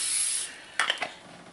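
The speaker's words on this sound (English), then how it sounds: "I'm just going to use baking spray to line my casserole dish." Baking spray hisses from a can into a casserole dish in a short close burst, followed by a couple of quicker spritzes, quiet and without talk.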